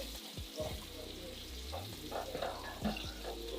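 Shrimp sizzling as they are laid into a hot pan for Cajun fettuccine Alfredo surf and turf, a steady close hiss broken by a few sharp pops and clatters, with no voice over it.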